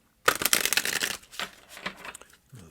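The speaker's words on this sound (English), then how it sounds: "Let's just shuffle these up, get them all." A brand-new deck of oracle cards being shuffled by hand, giving close, continuous riffling and flicking bursts that pause briefly, then resume near the end, with no talking.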